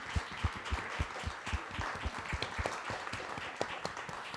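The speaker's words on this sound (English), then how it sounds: "let's give a round of applause for our panelists here" An audience at a Women in STEM panel claps for the panelists, a quiet, fairly distant patter of many hands that stays even for a few seconds.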